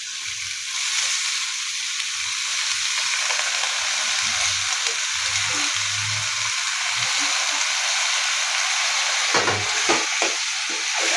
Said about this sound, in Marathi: आता मी धुवून ठेवलेला भोपळा त्याच्यामध्ये टाकून घेते।